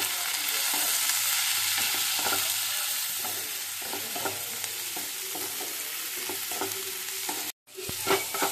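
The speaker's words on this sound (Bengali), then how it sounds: "তো পেঁয়াজটা দেখো ফ্রাই হয়ে গেছে।" Onions frying in a pan with a little salt: a steady, close sizzle with frequent scrapes and clinks of stirring, then a brief gap before the sizzle resumes.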